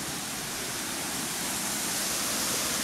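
Hot waterfall at Kerosene Creek, a geothermal stream, pouring steadily with a dense, even rush of water that holds constant throughout, close by and without voices.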